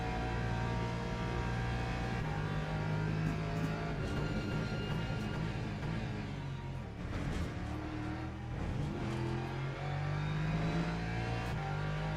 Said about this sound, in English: That Porsche is really good on corner exits.